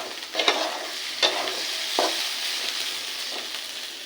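Potatoes fry with turmeric in a wok while a utensil stirs them, giving a steady close sizzle broken by four or five distinct scraping strokes at uneven intervals, with no talking.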